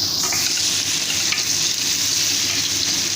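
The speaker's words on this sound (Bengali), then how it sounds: "তেল গরম হয়ে গেছে, আমি পেঁয়াজ কুচোটাকে ছেড়ে দিচ্ছি।" Chopped onion hits hot oil in a pan for a Bengali fish and cauliflower curry, giving a loud, steady, close sizzle that holds evenly throughout with no voices.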